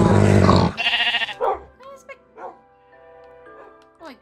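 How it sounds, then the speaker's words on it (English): A dog in the Minecraft video game gives a series of short, whining yelps and barks after a loud burst at the start, with a person talking over parts of it. "Why is the dog screaming?"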